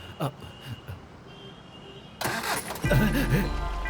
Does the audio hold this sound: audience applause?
no